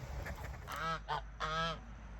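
Several loud goose honks ring out alone: a short burst, a brief single honk, then a longer harsh call, close to the listener over a low background rumble.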